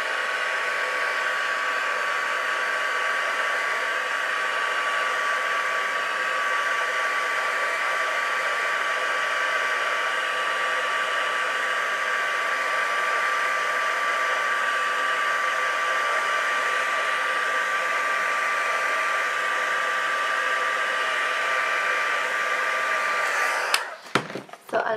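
A hair dryer blows steadily on fresh paint on a DIY rainbow fairy figure, a loud continuous whir with a faint whine, running alone for most of the span before cutting off with a few handling clatters at the end.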